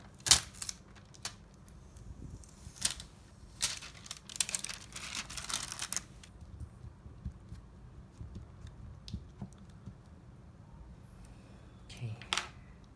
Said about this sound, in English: Let's peel off this plastic